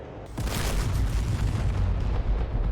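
Bombs from an F-15E Strike Eagle strike a port in DCS World, a heavy booming blast that rolls into a sustained, rumbling roar of explosions lasting a few seconds.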